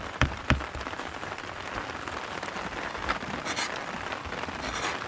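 Steady rain falls at a campsite in Tanay, Rizal, making a dense, even patter on surfaces with a few louder drips and taps, close and continuous without talk.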